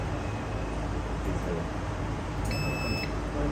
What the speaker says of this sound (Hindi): ये देख लो आपस में बीप दे रहे दोनों का